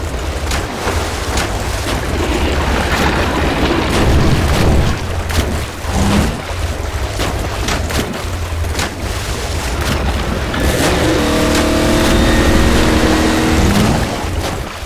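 A car engine in Half-Life 2: Episode Two roars and revs steadily with a deep, continuous rumble, its pitch rising and holding, loud throughout with no talking.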